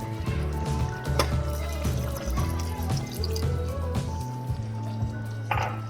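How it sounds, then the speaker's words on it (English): Milk poured into a cardamom-flavoured drink in a home kitchen, a steady liquid stream with gurgling and dripping textures, close and continuous. "So let me pour milk to it."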